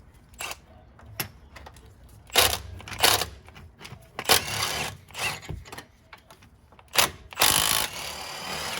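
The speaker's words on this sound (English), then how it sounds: "The next thing you're going to do is remove two triple square bolts, number 14, holding the caliper." A ratchet working the triple square bolts that hold the rear brake caliper of a Porsche Cayenne 958: bursts of close mechanical clicking come in short irregular runs, separated by brief pauses.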